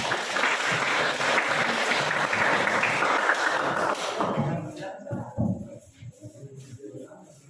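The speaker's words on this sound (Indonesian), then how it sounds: "kita beri tepuk tangan dulu untuk kelompok" A classroom of students claps for a presenting group, a few seconds of brisk applause that fades into quiet room noise, scattered thumps and a voice speaking.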